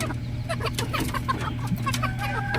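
Pet chickens clucking close by, a continuous overlapping chatter of short clucks from several birds over a steady low background hum.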